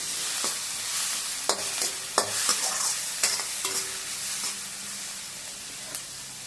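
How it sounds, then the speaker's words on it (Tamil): Garlic, tomato and onion sizzle in a pan while a spoon stirs and scrapes, steady frying hiss broken by occasional sharp knocks against the metal. "தக்காளி, வெங்காயம் நல்லா வதங்கிச்சு."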